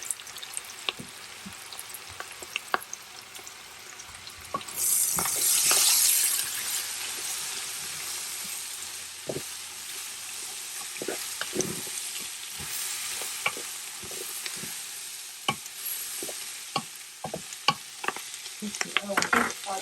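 Cabbage and carrot fry in a pan with a continuous sizzle that swells as the cabbage goes in, punctuated by frequent clicks and scrapes of stirring, close and with no talk.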